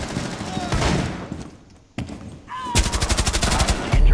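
Rapid automatic gunfire in Rainbow Six Siege during a house hostage team deathmatch, a loud close burst, a pause, then sustained fast rhythmic shots, with a voice talking over the first part.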